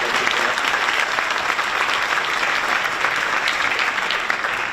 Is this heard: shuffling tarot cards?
no